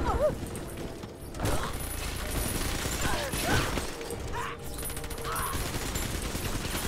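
Gunfire rattles from a weapon in the video game Bioshock 2, with bursts of rapid mechanical shots and clattering under a continuous game soundscape, with a voice talking over parts of it.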